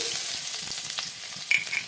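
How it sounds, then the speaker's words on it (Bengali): Chopped garlic hits hot oil, giving a short, loud, close sizzle with crisp crackles and a few sharp spits. "সব ডিম ভাজা হয়ে গেছে আমি তুলে নিচ্ছি এই তেলে দিয়ে দেবো রসুন কুচি"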